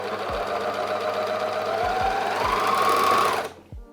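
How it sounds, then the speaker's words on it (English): An overlocker runs steadily at high speed stitching swimsuit fabric with a whirring, rattling hum, punctuated by a few low thumps, then stops abruptly near the end. "I'm gonna do this in an overlocker"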